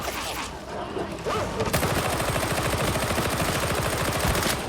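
Rapid gunfire from the game Warhammer 40k: Darktide, a loud, sustained burst of fast repeated shots that kicks in after a quieter opening and runs to the end.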